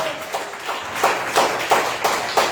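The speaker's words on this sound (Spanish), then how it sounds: "Den un aplauso al Señor esta preciosa tarde" Scattered hand claps pulse in loose, repeated bursts over a steady murmur, like a crowd clapping along in rhythm, at a church service.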